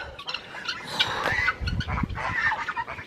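Several guinea fowl call in harsh, repeated squawks, close and fairly loud, overlapping in a noisy chorus.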